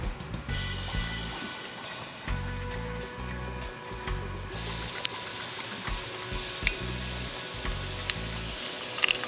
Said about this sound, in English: we added about 3 cups of coconut oil to the frying pan